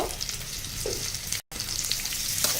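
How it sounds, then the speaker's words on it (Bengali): Masala for a Bengali hog plum (amra) korma fries in a pan with a continuous close sizzle and light stirring, broken by a brief gap of silence near the middle. "ভালো করে কষিয়ে নেব"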